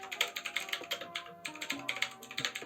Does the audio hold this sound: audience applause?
no